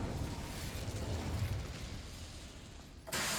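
Incendio fire spell in the video game Hogwarts Legacy, a rumbling, roaring burst that fades gradually before a sudden loud hit at the very end, with no talking.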